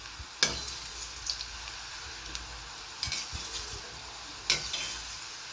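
Falafel balls frying in hot oil and being turned, a faint steady sizzle with a few sharp clinks and scrapes of a utensil against the pan scattered through.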